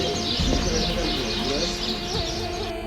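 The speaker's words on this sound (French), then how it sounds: "Il y a des oiseaux." Birds chirp and tweet continuously at close range on a journey from Tafraout to Tinfou in Morocco, a dense steady chorus throughout.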